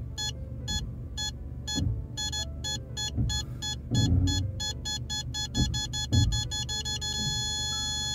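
Mercedes park distance control warning beeps sounding as the car creeps toward an obstacle, steady tones that come faster and merge toward a near-continuous tone, over low engine rumble.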